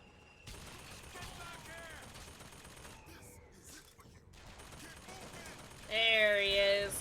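Gunfire in the BioShock Infinite video game, a few scattered shots over game ambience and voices, ending in a louder burst of noise.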